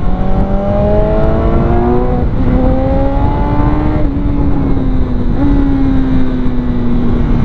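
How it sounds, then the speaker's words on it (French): A loud BMW S1000R motorcycle engine drones nearby, its pitch stepping up and down as the throttle is blipped while slowing. "Mais un petit coup de gaz à la décélération."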